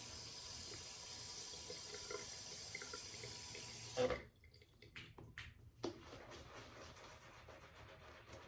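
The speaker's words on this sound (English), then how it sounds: "let's put a little more water in it" Water trickles and splashes from a tap into shaving soap lather in a bowl, a steady bright running hiss that cuts off abruptly, followed by a few brief wet swirling splashes.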